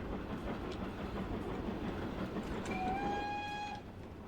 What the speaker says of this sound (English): Got a train arriving in from Kingswear.